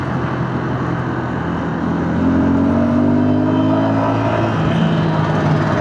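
A 2026 Suzuki Gixxer SF 250 motorcycle engine revving up, a loud, close, steady engine drone that rises in pitch midway and holds at higher revs.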